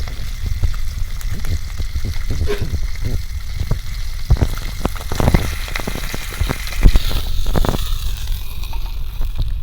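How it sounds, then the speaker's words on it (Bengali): A whole hilsa fish fries in hot oil with a continuous close crackle and scattered sharp pops throughout. "একটা মাছ আবার ভেজে নিতে হবে"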